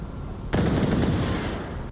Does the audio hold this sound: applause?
no